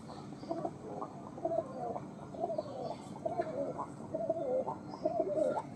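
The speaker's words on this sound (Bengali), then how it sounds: "এটা হচ্ছে আমার সবথেকে বয়স্ক কবুতর" A garden owner's oldest pet pigeon coos in a rooftop garden, giving soft, repeated throaty calls in a steady rhythm over a low background hum, close by and moderately loud.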